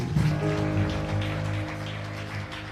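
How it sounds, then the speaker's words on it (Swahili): A church congregation at a seminar claps in a dense, rain-like patter while sustained keyboard chords ring underneath, the clapping swelling briefly at the start and end. "Bwana makofi mengi."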